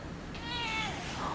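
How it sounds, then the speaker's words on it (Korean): A thin, skinny stray cat gives a single drawn-out meow, moderately close, against a windy outdoor background at a glamping site. "길냥이 아니야 길냥이?"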